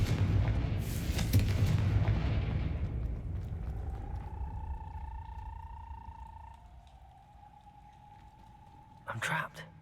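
A Confringo blast spell from a Hogwarts video game goes off with a loud, rumbling boom that slowly fades, followed by a thin whistling tone and a short, sharp burst near the end.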